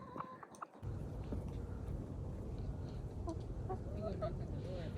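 A backyard hen, a short, squat chicken, clucks with a few faint, scattered calls against steady outdoor background noise while people talk nearby.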